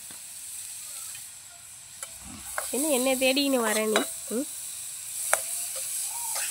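Onions frying in a pan over an outdoor wood fire, a steady close sizzle and hiss with occasional stirring, while a person speaks briefly over it.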